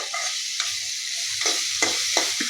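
Soybeans frying in a pan are stirred in a steady sizzle, with a spoon scraping through them in several distinct bursts. No one speaks.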